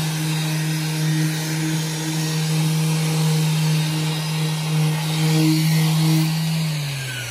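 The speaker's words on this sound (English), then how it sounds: "So on the end grain, it takes a little bit more to sand it." A power sander works the end grain of figured maple, giving a loud, steady motor whine with a buzzy tone that stays close and continuous, then dips slightly in pitch near the end.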